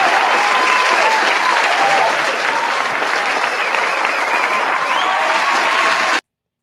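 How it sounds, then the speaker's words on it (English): A studio audience on a talk show breaks into loud, continuous applause, a thick wash of clapping with a few light cheers that holds steady before cutting off abruptly. "Can we give him a round of applause?"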